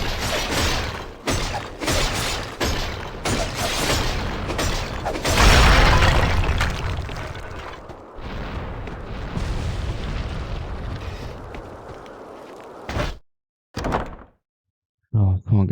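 Dungeon Siege 2 combat as a pod gets destroyed: heavy thuds and a booming burst over a dense, loud battle din, with someone talking over it, ending in brief silences.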